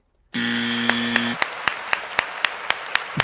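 A few sharp hand claps ring out near the start over a sustained tone, then a steady run of evenly spaced single claps carries on to the end, close and fairly loud.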